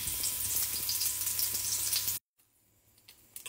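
Onion fries in a pan with a bright, steady sizzle that cuts off abruptly, leaving only quiet background noise afterward.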